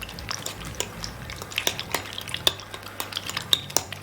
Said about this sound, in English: Give that a good mix together.